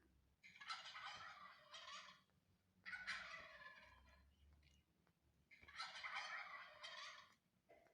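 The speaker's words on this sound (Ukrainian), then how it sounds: "Послухайте звуки, які видає індик." A turkey gobbles three times, each a loud rattling burst of about a second and a half, spaced evenly with quiet between.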